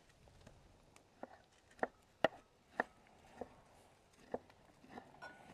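A knife slices through soft, hot cooked onions on a board at a camper cooking demonstration, giving a handful of sharp, irregular taps that are close and fairly quiet, with no talk.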